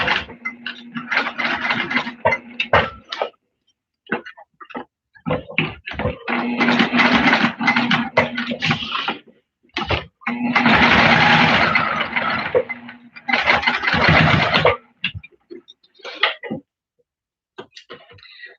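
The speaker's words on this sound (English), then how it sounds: "I'm just back stitching now." Sewing machine back stitching on a holiday sewing project, close bursts of rapid mechanical whirring that start and stop several times with short pauses between runs.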